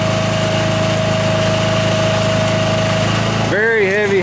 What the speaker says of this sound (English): Very heavy hydraulic driven chain winch.